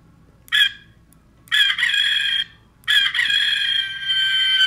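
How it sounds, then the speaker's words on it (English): Rooster crow from a button on a toy chicken house: three loud, bright, electronic-sounding crows, a short one and then two longer ones, separated by brief pauses over a faint background hum. "Press the chicken button."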